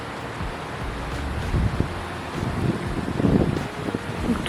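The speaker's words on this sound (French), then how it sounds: "Il y a un vent de malade." Strong wind buffets the microphone out in the Mourne Mountains of Northern Ireland, a loud continuous roar with rumbling gusts that swell and fade, and no voices are heard.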